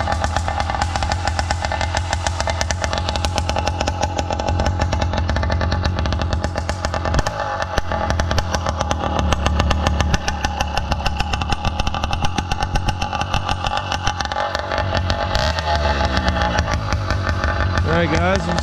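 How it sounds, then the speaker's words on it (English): A Zeda 80 Firestorm motorbike, an MZ65 clone fitted with an OZ reed valve and a 40-tooth sprocket, runs its engine steadily and loudly throughout while someone talks over it. "I'm just gonna take you along for a quick little ride today. Been doing a little bit of work on this bike."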